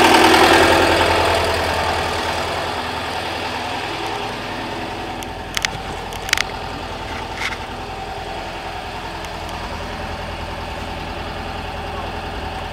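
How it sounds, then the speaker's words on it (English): A petrol engine, being tuned at the ignition points, runs steadily with its idle gradually quickening, a continuous mid-pitched hum under a few brief clicks. "Now the engine's starting to run a bit faster."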